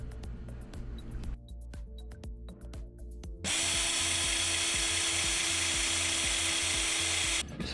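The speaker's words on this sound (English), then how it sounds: "So now I just bolt this bracket to here." A power tool runs while a bracket is bolted onto a Mega Moto 212 minibike, first in short spaced bursts and clicks, then a loud steady whine held for about four seconds before stopping.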